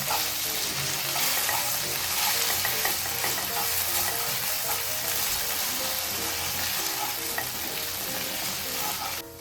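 Roasted dry fruits stirred together with sarola in a pan for a Konkani sweet, a continuous dense sizzle and rustling scrape of stirring, close and even throughout, without talking.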